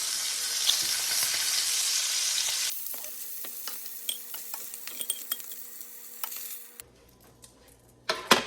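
Beef ribs browning in a pan give a loud, steady sizzle at first, then quieter crackles and scattered metallic clinks and scrapes of a utensil against the pan.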